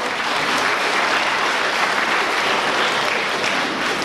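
An audience bursts into steady, dense applause for a guest at a formal school ceremony, the clapping sustained and fairly close for a few seconds with no voices over it.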